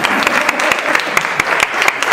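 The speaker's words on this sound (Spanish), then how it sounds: "Si quieres te puedes levantar y le damos un aplauso" A conference audience in a casino hall claps for an author, a short burst of dense, lively applause with some sharper individual claps standing out, loud and close.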